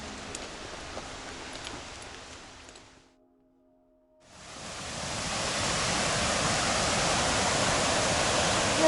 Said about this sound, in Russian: Там ручей Рапачай.